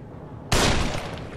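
A single loud gunshot in the horror video game The Evil Within bursts in suddenly after a quiet stretch, then rings on with a long, dense reverberant tail.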